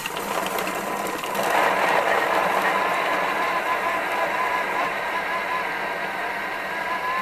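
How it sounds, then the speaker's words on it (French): A Thermomix whirs loudly and continuously at speed 10, its motor grinding and chopping carrot and pumpkin with a rough, buzzing churn that swells briefly then holds steady. "Je vais monter jusqu'à 10 pour mixer la carotte et le potiron"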